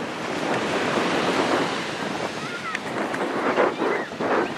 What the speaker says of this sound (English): we're taking Kaisen to the ocean, the beach